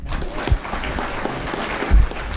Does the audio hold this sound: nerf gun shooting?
no